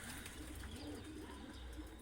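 A pigeon coos softly in a loft of adult birds and newly fledged young, low rolling calls repeating over faint, steady background noise.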